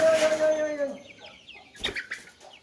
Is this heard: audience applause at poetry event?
no